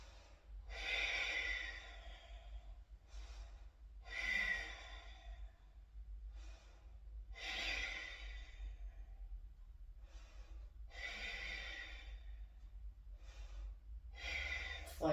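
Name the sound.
breathing while holding yoga boat pose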